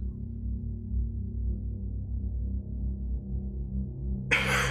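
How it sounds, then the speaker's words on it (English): A low, smeared synthesizer drone through a granular reverb with washy, shimmering tails, stereo spread and feedback sustains throughout, then a burst of bright noise rises at the very end. "Our granular reverb sounds like this."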